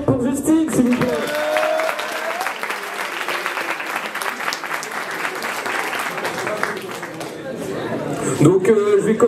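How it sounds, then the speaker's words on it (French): An audience at a magic show bursts into applause, a dense sustained clatter of many hands with crowd chatter and voices mixed in, rising near the end. "Un tonnerre d'applaudissements pour Justine, s'il vous plaît."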